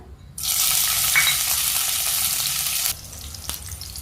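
Green chilies hit hot oil in a kadhai with a sudden loud sizzle that holds steady for about two and a half seconds, then drops back to a faint crackle.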